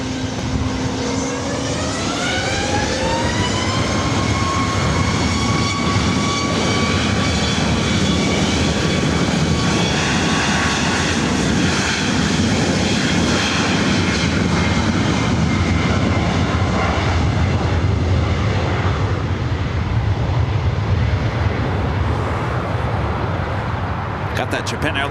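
A jet airliner taking off from LAX runway 24 right, its engines building into a loud, steady roar that holds throughout, with rising whine tones and radio-style talk over it.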